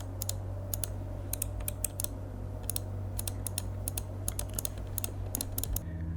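MSI gaming mouse buttons clicking in quick bursts of sharp, close clicks, grouped in irregular pairs and clusters over a steady low background hum, with no talking.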